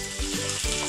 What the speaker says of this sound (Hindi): जीरा तड़क चुका है, चलिए अब हम इसमें डालेंगे उबले हुए आलू जिसको मैंने मैश कर लिया है।